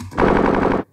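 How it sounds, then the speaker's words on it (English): Gunshot sound effect serving as an edit transition: a rapid, dense burst of automatic-style gunfire rattles loudly for under a second, then ends sharply. "And so I added the sound effect of guns being shot, like it's flashing"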